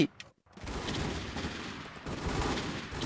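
Rapid gunfire from an online multiplayer shooter game, played in a clan match with teammates; dense, continuous shots fill the clip after a brief quiet gap near the start.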